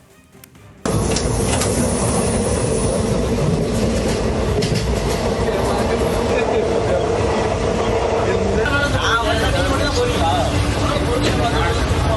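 Steady, loud rumble and rattling clatter fill a sleeper compartment of the moving Karaikal Express for the whole stretch, with voices of people talking mixed in.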